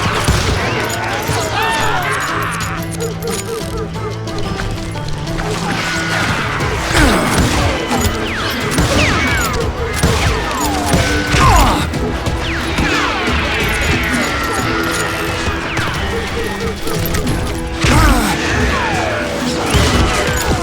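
Gunfire rings out in the Western shooter Call of Juarez Gunslinger, with a dense run of shots, crashes and impacts over about twenty seconds and voices shouting over the battle.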